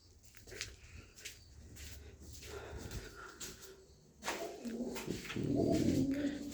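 Pigeons coo softly at a village house, low murmuring calls repeating among light rustling and patter, with the cooing growing fuller near the end.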